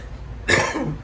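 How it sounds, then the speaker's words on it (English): A single sharp, close cough rings out from a man outdoors in Benidorm, a short rough burst after a moment of low background rumble. "I'm coming down with a bit of a cough, so my apologies."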